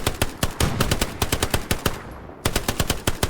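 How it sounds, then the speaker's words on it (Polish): Gunfire in the World War II shooter Hell Let Loose: rapid, loud bursts of automatic shots in quick succession, a brief pause, then another burst, with no talking. "Nie widziałem skąd strzela, ale ktoś strzelał."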